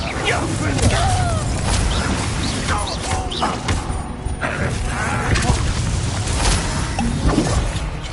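Confringo blasting spell explosions in the Hogwarts Legacy video game, a dense run of booming blasts and thuds over continuous battle noise, loud and sustained with spell-casting voices shouting throughout.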